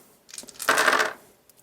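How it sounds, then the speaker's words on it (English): Dice rolling and clattering on a surface during a Candela Obscura tabletop roleplaying session, a short burst of hard tumbling clicks that rises to a dense rattle and dies away within about a second, close and alone. "Roll all of these die."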